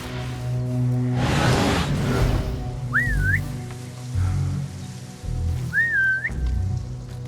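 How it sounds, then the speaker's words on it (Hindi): Two rising-and-falling whistles sound a few seconds apart, a player luring a guard in Assassin's Creed Mirage, over a continuous low ambient hum of the game. "दो बार सीटी बजाई, गार्ड तो बड़ा सख्त निकला भाई"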